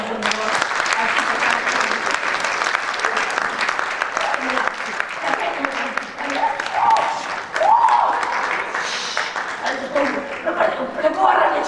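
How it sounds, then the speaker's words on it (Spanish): Audience applause for a group of women at a Galician oral storytelling festival, steady sustained clapping filling the whole stretch, with some voices and cheers mixed in. "Un aplauso para elas, por favor."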